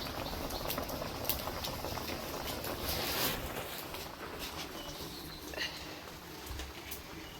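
Ridge gourd curry bubbling in a pot on the stove, a faint, continuous soft simmer with scattered small pops and ticks throughout.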